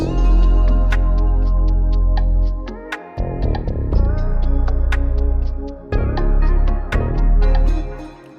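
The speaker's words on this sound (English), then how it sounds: "I used the rim shot. This is Jooce Box Rim Shot 3" A repeating drum loop with sharp, crisp Jooce Box Rim Shot 3 hits cutting through a heavy low-end beat, steady rhythm, loud and upfront, no voices.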